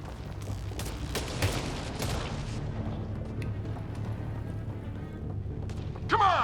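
Sustained gunfire and bursts of shots in Mass Effect: Andromeda, a dense, continuous barrage of cracks and booms with a sharp burst near the end, loud and close throughout.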